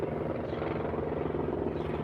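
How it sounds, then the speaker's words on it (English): A helicopter flies low directly overhead in a city, giving a loud, steady, throbbing rotor drone that fills the whole stretch without a break. "here comes a helicopter right above my head here"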